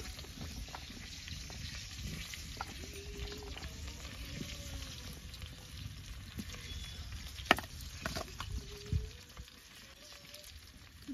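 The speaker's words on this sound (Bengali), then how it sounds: "কড়াই বেশি করে তেল দিয়ে দিয়েছি, আর আলুগুলো একটু ভেজে নেব।" Potatoes fry in plenty of oil in a wok, making a low, steady sizzle with occasional stirring scrapes and a couple of sharper clatters, fairly quiet throughout.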